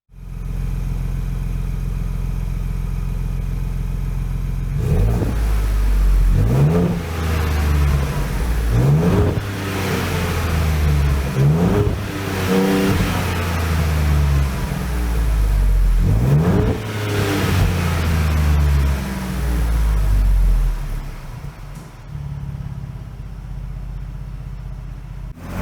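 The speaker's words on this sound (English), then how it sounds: "let's lower the Bronco back on the ground and start it up." A 2021 Ford Bronco with a 2.7L engine and a MagnaFlow axle-back exhaust starts up, idles with a deep rumble, and is revved several times in sharp rising bursts before settling back, close and loud with no talking.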